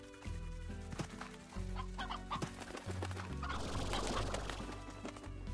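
Chickens cluck in the Slime Rancher video game, with busy clucking and scattered clattering over a steady dense game soundscape and background music.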